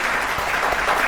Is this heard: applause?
yes